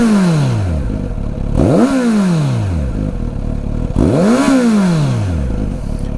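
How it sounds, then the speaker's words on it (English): A 2018 Kawasaki Z900RS with stock exhaust revs in neutral, two sharp throttle blips rising and falling back to a steady idle, loud and close with no talk. "2018 Kawasaki Z900RS, stock exhaust."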